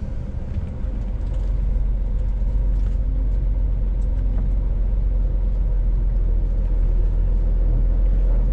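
A car pulls away and drives on, its steady low engine and road rumble filling the cabin from inside, continuous and even with no talk.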